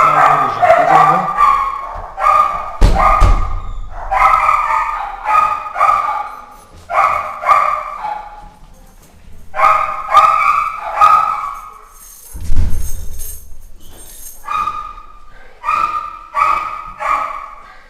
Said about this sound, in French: C'est une très jolie chienne.